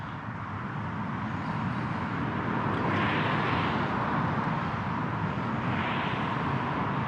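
A drone flies over a police headquarters building, its rotors making a steady, loud, broadband whirring drone that holds constant throughout with slight swells and no voices.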